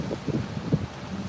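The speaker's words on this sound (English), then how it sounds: "You know, it's really windy though," Wind gusting outdoors on a patio in Thailand, steady buffeting rumble against the microphone, loud and close, with no voice.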